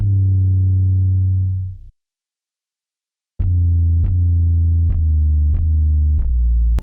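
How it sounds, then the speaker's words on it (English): Main 808 bass from a rap beat, a deep booming sustained tone that rings out and stops, then after a short silence returns as a run of five repeated punchy hits, loud and alone. "This is the main 808."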